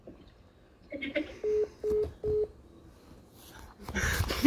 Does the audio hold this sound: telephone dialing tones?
yes